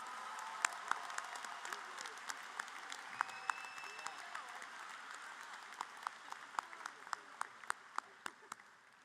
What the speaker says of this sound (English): Let's have one more round of applause for these three outstanding students.